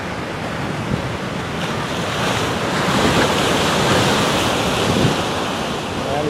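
Sea waves surge and wash into a small rock pool beside a boulder at the northern end of a beach at dusk, a steady loud roar of surf swelling and receding, with wind buffeting the microphone and no talking.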